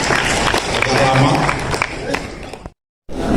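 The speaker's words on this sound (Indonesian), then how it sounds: "Tepuk tangan buat kita semuanya" A seminar audience at a notary training on Islamic banking applauds together, a dense sustained wash of clapping with crowd noise and voices mixed in, cutting off abruptly near the end before resuming.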